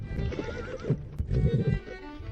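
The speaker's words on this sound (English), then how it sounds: "The sound of horses made me quickly look away from the mirror and look at my window." Horses outside neighing by an arriving carriage, a couple of shrill whinnies and snorts over low rumbling and faint hoof clops, moderately close.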